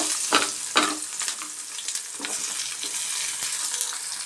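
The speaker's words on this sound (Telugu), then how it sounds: "పోపు వేగిందండి. ఇందులో ఎర్రగడ్డ వేసేసుకుందాం." Onions hitting hot oil tempered with mustard seeds, cumin and dried red chilies, giving a steady close sizzle with a few sharp crackling bursts near the start as the pan is stirred.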